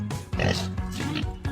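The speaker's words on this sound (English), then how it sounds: "This is a pig." Pig oinks from a farm animal set, a few grunting calls repeated close up in a steady rhythm, heard alone without talk.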